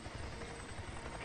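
A helicopter in the video game Days Gone gives a steady low thrumming rotor-and-engine drone with a soft high whine, constant and alone, without talking.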